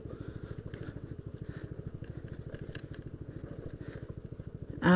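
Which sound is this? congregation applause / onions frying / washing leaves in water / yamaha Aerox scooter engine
yamaha Aerox scooter engine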